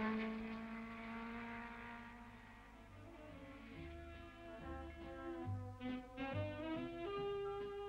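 A Cooper racing car crossing the finish line at a 1961 race, its engine a faint, droning whine that climbs and shifts in pitch as it passes, heard distantly on old recorded sound.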